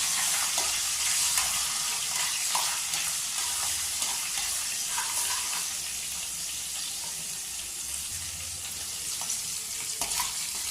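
Garlic frying in a pan while cooking chicken, a dense, steady hissing sizzle close by with a few faint utensil taps, no voices.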